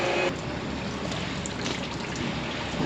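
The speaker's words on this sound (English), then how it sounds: "Looks like all the hoses are on now. Putting out good clean water." Steady, broadband rushing of water pouring continuously, close and fairly loud, with no pauses or voices.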